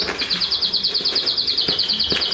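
Pet canaries chirp in a rapid, steady trill that runs the whole time, fairly close and bright, with a few soft knocks in the background and no talking.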